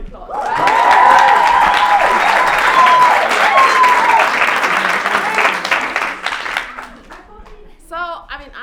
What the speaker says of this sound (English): think we all deserve a round of applause, right?